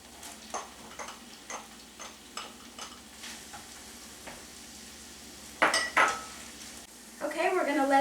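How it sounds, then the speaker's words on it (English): Onions and mushrooms cook in a pan, with a steady low sizzle under repeated light taps and scrapes of a utensil, followed near the end by a louder clatter and stir. "while the mushrooms and onions are cooking"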